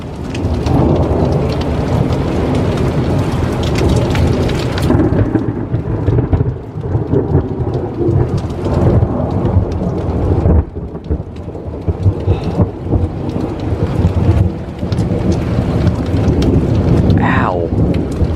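Heavy rain pours steadily during a windy, severe-warned thunderstorm. Loud rolling and crashing thunder repeatedly swells over the constant downpour, with no talking.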